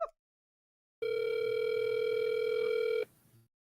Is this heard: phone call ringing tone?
yes